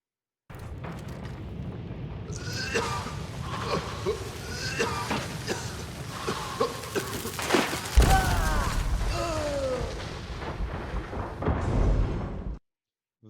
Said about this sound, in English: That is the nade that goes off, quote unquote, too fast.